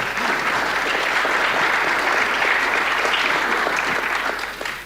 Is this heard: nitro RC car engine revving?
no